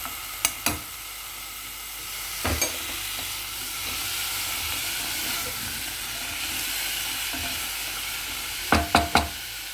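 Vegetable pieces for a mixed vegetable curry, cooked without salt or oil, fry in a pan with a steady, hissing sizzle. A few sharp utensil clicks come at the start and a quick cluster near the end, no voices.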